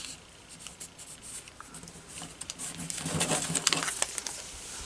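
Paper rustles and creases as a wing piece is folded for an origami crane, soft scratchy crinkles and light taps that grow busier toward the end, close up and quiet.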